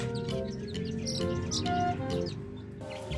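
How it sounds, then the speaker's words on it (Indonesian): High, thin chick chirps and peeps repeat in a busy stream over a steady background, close and moderately loud. "ini anak ayam yang tadi kita dapatkan nih"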